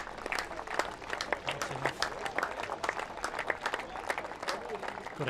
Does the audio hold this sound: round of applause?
yes